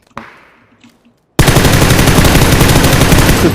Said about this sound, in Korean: 계속 쏩니다